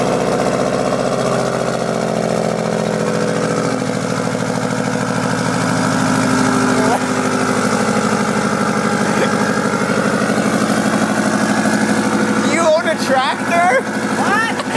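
A Subaru WRX STI with a 3 inch straight pipe exhaust idles loud and close after an ECU flash, a steady droning rumble with small wavering rises, while people talk and exclaim over it toward the end.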